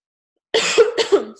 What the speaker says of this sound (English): And I apologize for all my coughing.